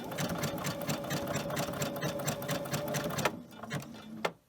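A domestic sewing machine stitches with a twin needle, running in a steady fast mechanical rattle that stops briefly and restarts, close and loud with no talk.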